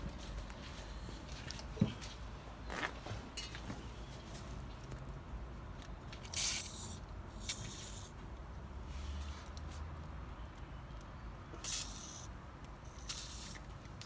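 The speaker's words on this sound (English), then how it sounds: "spray a bit of WD40 on this nut here on the top and the bottom one" WD-40 sprayed onto the 10mm nuts of a front brake caliper on a Vauxhall/Opel Astra J, with a few short hissing bursts over a steady background hiss.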